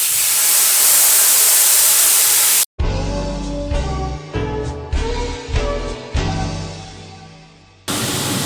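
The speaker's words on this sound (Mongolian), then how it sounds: "Энд дээр wine хийгээд" Wine poured into a hot pan with steak erupts into a loud, close hissing sizzle that cuts off abruptly to music, then the sizzle briefly returns at the end.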